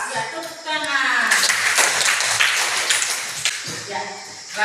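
Classroom applause from students during a lesson on the respiratory system, a dense burst of close clapping lasting a few seconds, with a voice talking over the start and again as it fades.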